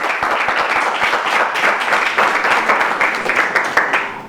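A studio audience at a televised quiz show bursts into loud, sustained applause, many hands clapping densely and close for the whole stretch.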